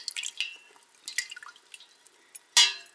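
Warm water at about 40 degrees is poured into cut cheese curds for homemade hard cheese, giving quiet splashes and drips in uneven bursts, ending with one louder splash.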